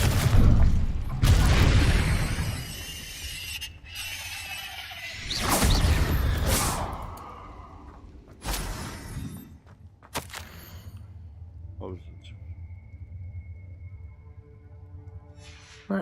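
Fire spells Incendio and Confringo cast in the Hogwarts Legacy video game, loud booming bursts and sweeping whooshes in quick succession, then quieter scattered impacts over a low background hum.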